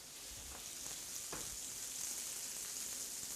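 Small pieces of meat frying in a pan, a steady, moderately faint broadband hiss of sizzling with a few soft stirring clicks around the middle.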